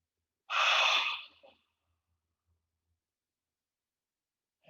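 A single sharp inhalation during a yoga breathing exercise, a loud airy intake lasting about a second, then quiet with a faint new breath starting at the end.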